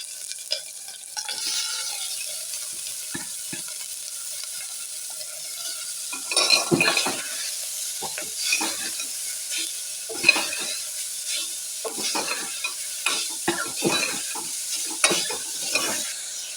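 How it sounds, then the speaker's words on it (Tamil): Green chillies and onions sautéing in a pan for a banana flower stir-fry, with a steady sizzle broken by repeated stirring and scraping strokes, close and fairly loud, no talking. "பச்சை மிளகாய் வெங்காயம் போட்டு வதக்கிடுவோம்"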